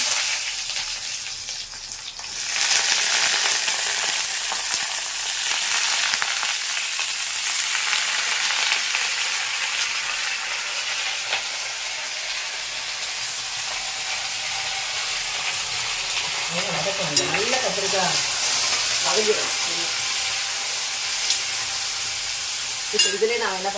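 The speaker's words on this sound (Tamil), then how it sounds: "எண்ணெய் ஊற்றிருக்கேன் இப்போ நம்ம வெட்டி வச்சுருக்கோம் பாருங்க கத்திரிக்காய் அதை நம்ம இதில் போடலாம்" Brinjal pieces frying in oil in a kadai, a loud continuous sizzle that jumps up as the pieces go in and keeps hissing with occasional stirring, with faint voice-like sounds later.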